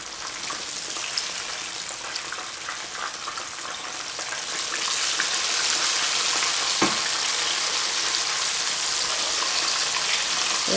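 Sea bass fillets frying skin side down in a pan, a steady close sizzle and crackle like light rain that grows louder and denser partway through, with one brief clatter, and no voices.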